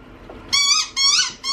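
A squeaky dog toy gives three loud, bright squeaks in quick succession during indoor play, close up and with no talking.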